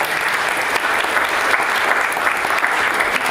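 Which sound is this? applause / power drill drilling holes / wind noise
applause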